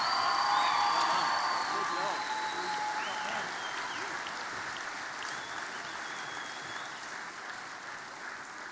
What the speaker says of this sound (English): A round of applause for Hugh Jackson.